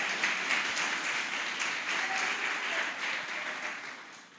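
A church congregation claps and applauds steadily during a Sunday worship service, a dense even roar of hands that holds for several seconds and tapers slightly at the end.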